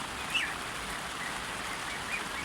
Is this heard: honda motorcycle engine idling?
no